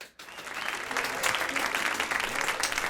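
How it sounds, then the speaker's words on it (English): Audience applause on a podcast set, steady clapping that starts after a brief pause and swells to a full, even roar, with voices faintly mixed in. "Clap it up."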